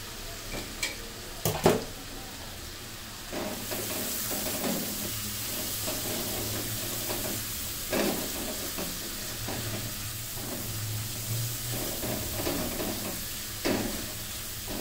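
Chutney with hot chillies frying and being stirred in a pan on the stove, giving a steady sizzle with soft scrapes and a few sharper clinks of the utensil against the pan.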